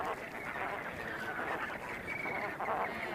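A dense flock of flamingos on a salt pan in the desert gives off a continuous, fairly distant chorus of honking, goose-like calls. The overlapping calls blend into a steady wash of sound.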